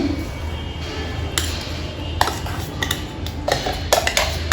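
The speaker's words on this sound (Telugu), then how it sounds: "ఇది మంచిగా కలిపేసుకుందాం మనం సాల్ట్ కూడా వేసాం కదా" Sago idli batter mixed in a bowl, with a spoon clinking and scraping against the sides in irregular bursts over a soft background hum.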